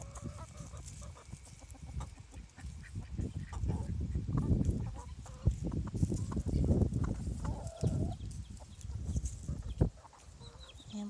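Chickens on a farm alongside llamas, clucking and squawking in irregular bursts at moderate distance, rising and falling over a background hum with no talk.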